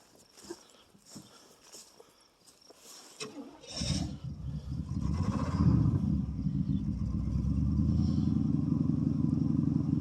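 A 1979 Oldsmobile Ninety-Eight engine cranks for a few seconds, then catches on a cold start and settles into a loud, steady, slightly uneven idle close to the microphone. Faint background noise precedes the start.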